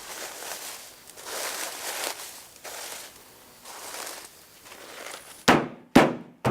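Dried Brussels sprout seed pods beaten on a plastic tarp or thick cloth to thresh out the seeds: soft rustling crunches, then several sharp, loud slapping strikes near the end.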